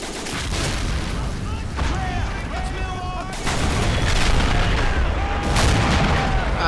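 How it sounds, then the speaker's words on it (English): Gunfire from units in the video game Men of War: Assault Squad 2, dense and continuous battle noise with scattered shots and booms throughout, a constant rumbling war soundscape at steady loudness. "Ah, now you're firing."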